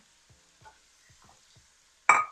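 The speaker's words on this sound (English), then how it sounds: "And stir them up like a one or 2 minutes." Cooked shrimp and vegetables for cauliflower fried rice are stirred in a hot pan: a few soft, quiet scraping strokes, then one sudden loud clatter at the very end.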